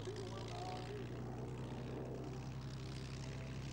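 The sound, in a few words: vintage propeller warplane engines at an air show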